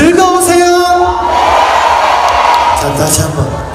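A large crowd at the closing ceremony of the 38th Geumsan Ginseng Festival in Korea whoops and shouts loudly and continuously, with high cheers rising over a dense roar throughout.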